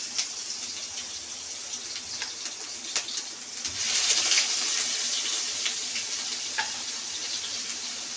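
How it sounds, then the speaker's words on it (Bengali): Grated onion hits hot oil, giving a steady bright sizzle with small pops and clicks that swells noticeably partway through, then settles into an even frying hiss. "এই ঘষে খানিকটা পেঁয়াজ আমি এই তেলের মধ্যে দিয়ে দিলাম।"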